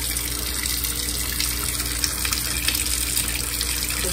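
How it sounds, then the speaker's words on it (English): Water runs from a tap during a doll's bath, a steady, close gushing and splashing stream that continues without a break and without talk. "Just turn off the water when it's not needed."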